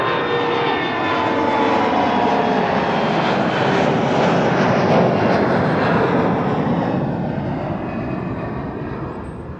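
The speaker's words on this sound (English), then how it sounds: "SAS CRJ on its way. SAS Flight 552 to Copenhagen." An SAS CRJ jet at Amsterdam Schiphol roars past at close range, a strong, sustained engine rush with whining tones that peaks midway and then slowly fades as the aircraft moves away.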